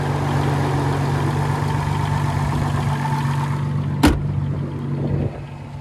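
A 1300 hp Nissan GT-R's 3.8-liter twin-turbo V6 idles with a loud, steady, even drone and low rumble; a sharp click near the end precedes a slight drop in the engine note.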